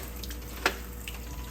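Water runs from a sink tap to rinse sea moss, a soft steady hiss at low level with one brief clatter partway through.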